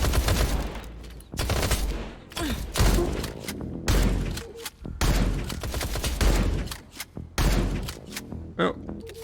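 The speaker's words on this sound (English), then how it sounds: "Oh, wasted my shotgun ammo" Shotgun blasts in the video game Industria boom in quick bursts during an ambush, loud and repeated, with a voice speaking over some of them.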